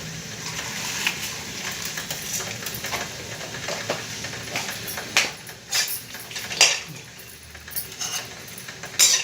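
Black mustard seeds tempering in hot oil in a pan, giving a continuous crackling sizzle with scattered sharp pops and a few metallic clinks of a spoon, fairly close and with no talking.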